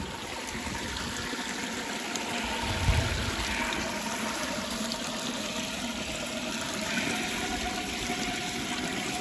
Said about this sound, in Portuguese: Aí cai água na bica e a gente vai lá embaixo no poço